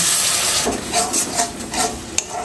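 A pan of fried spice paste cooked down until the oil separates, made with ground ginger among the spices, sizzles and hisses steadily as a little water goes in and is stirred, with a brief clink partway through.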